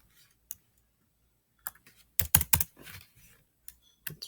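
Short bursts of typing on a computer keyboard, close and crisp: a few isolated key taps, then a quick cluster of sharp clicks in the middle, with more scattered taps near the end.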